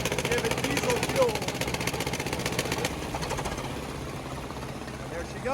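A vintage diesel engine is spun over under compression by a gas starting engine, giving a dense, rapid mechanical chugging and clatter that is loud at first, then drops to a lower, softer running rumble.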